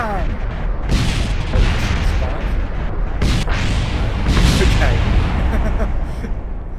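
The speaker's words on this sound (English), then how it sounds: "It's always fun to watch an explosion." A rocket explodes on impact in Kerbal Space Program, loud rumbling blasts with a couple of sharp bursts rolling over the game's background noise, while someone talks over it.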